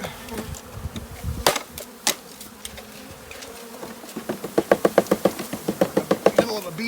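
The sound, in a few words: honey bee swarm buzzing while installing a bee package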